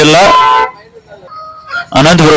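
A rooster crows faintly at a country-chicken market in Anantapur between bursts of close, loud talking.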